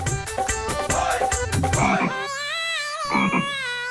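Loud, close frog croaks in a quick rhythmic series, then drawn-out warbling croaks, with no talking.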